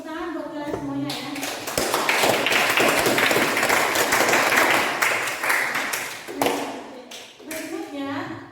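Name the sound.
students clapping for each other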